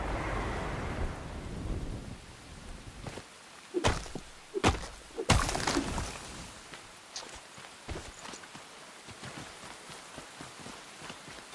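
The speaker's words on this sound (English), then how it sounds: "I think it could stop raining now." Rain and thunder in the video game Enshrouded: steady rainfall hiss, then several sharp close thunder cracks around the middle followed by fainter rumbling crackles, with no talk.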